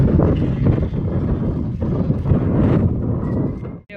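Strong wind gusts during monsoon rain, a loud continuous rushing roar that buffets the microphone, steady for several seconds before briefly dropping away near the end.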